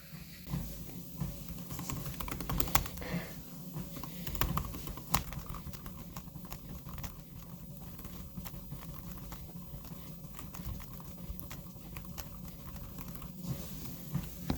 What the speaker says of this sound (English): I'm also going to try speed typing online here